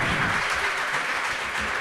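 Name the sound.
audience applause for poet Circe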